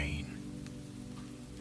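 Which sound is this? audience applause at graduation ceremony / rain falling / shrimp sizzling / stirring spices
rain falling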